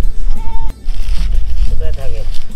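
Goats grazing freely outdoors alongside chickens let out a couple of short, nearby bleats amid loud rumbling handling noise and a voice talking over them.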